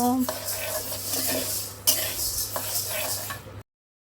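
Mashed potato, coriander leaves, fried onion and a little oil being hand-mixed for bharta, producing soft continuous squelching and scraping with a few sharper clicks against a dish, close and moderately quiet.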